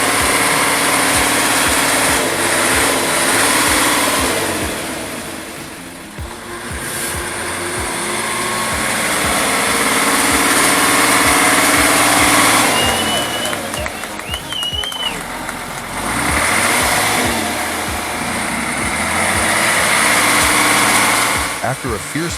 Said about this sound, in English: Equipped with a straight 6 diesel engine producing about 98 horsepower, the Praga V3S still had to grind back and forth.